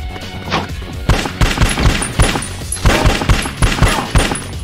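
Submachine gun fire in the action game Bad Boys 2: a steady stream of rapid, punchy shots in a regular rhythm, close and loud throughout, with ringing high metallic tones over the bursts.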